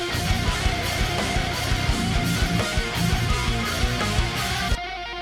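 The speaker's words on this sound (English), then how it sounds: "we get this kind of tapping section on the lead guitar," Lead guitar tapping over a heavy nu-metal/shoegaze breakdown, fast repeating notes riding on dense distorted guitars and pounding drums, loud and busy throughout before cutting off abruptly near the end.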